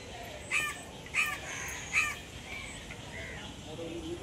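Crows calling beside the Ganges on a Sunday afternoon at the old Khardah temple grounds, three sharp caws spaced about a second apart over a steady outdoor hiss.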